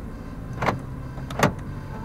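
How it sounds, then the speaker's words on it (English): Central locking on a 2019 Honda Brio 1.2 V i-VTEC CVT gives two short mechanical clunks about a second apart, close and clear inside the car over faint background hum. "Central locking."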